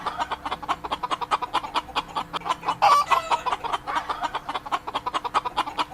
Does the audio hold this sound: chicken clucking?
yes